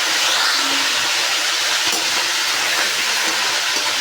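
Meat fries in hot ghee with a loud, dense, continuous sizzling hiss that stays steady throughout and has no talking over it.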